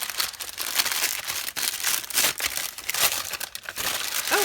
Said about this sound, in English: There is going to be some crinkling.